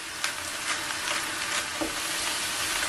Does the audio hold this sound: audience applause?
no